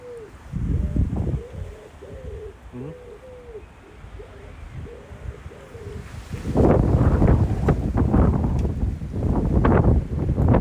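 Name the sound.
wind noise on microphone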